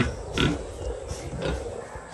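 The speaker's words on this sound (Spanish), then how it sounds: "Ahí están los cerdos." Pigs grunting on a farm property, a series of low, rough, intermittent grunts at moderate distance against steady outdoor background noise, with no talk over them.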